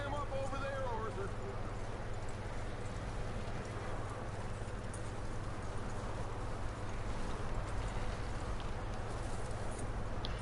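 Horse hooves clip-clop in Red Dead Redemption 2 at a steady walking rhythm, with a low constant hum beneath them for the whole stretch.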